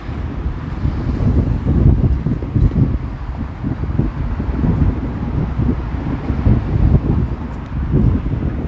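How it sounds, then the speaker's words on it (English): Steady wind buffets the microphone during an outdoor walk along a Toronto street in Oakwood Village, a loud continuous low rumble with gusty surges and no voices. "just not walking directly into the wind"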